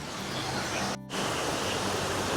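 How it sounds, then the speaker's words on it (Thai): Waterfall at Tat Ton in Chaiyaphum pours onto the water below, a steady, dense rushing roar that briefly dips for a moment midway before resuming at full strength. "ฟังเสียง น้ำตกที่กระทบกับ"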